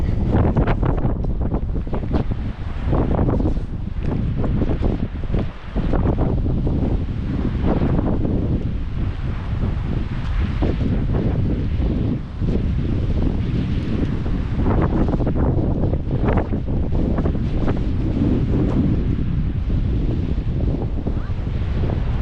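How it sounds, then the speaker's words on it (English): Strong, constant wind roaring and buffeting the microphone on the South Australian coast in rain, with a low rumbling gust noise and no pauses. "But a bit windy and raining for the drone anyway."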